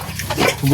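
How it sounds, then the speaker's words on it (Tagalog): A young pig about a month old grunts and slurps up water in short wet gulps, close by. "Jok, inom ka ng tubig"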